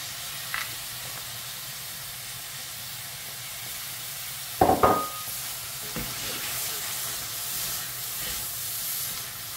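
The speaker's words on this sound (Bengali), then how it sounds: "এখন আমি সবজিগুলো দিয়ে দিই।" Chopped vegetables are dropped into a hot pan for a fish egg and potato dish, with a sudden crackle on contact, then a steady frying sizzle and hiss and a few light clanks. No one speaks.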